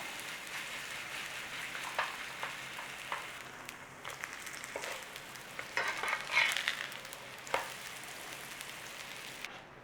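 Irish boxty potato pancakes, about a centimetre thick, fry in a pan with a steady, faint crackling sizzle that holds throughout, broken by occasional small pops and scraping taps.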